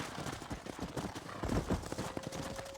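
Horse hooves clip-clopping in the Red Dead Redemption video game, a quick uneven patter of hoofbeats near a stable, fairly quiet, with a brief whinny-like tone near the end.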